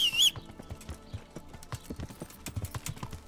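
Horse hooves clip-clopping steadily in the medieval Bohemian game Kingdom Come: Deliverance, close and fairly soft with a regular walking rhythm, after a brief high sound at the start.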